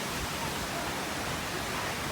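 The Quimixto waterfall near Puerto Vallarta, Mexico, gives off a constant, even wash of rushing water, a steady broadband hiss with no breaks and no voices.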